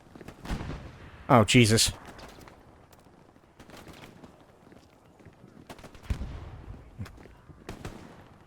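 A Maxim gun fires in a video game in short, sharp bursts, loudest in one cluster early on and then in scattered lighter shots, with a voice reacting between them.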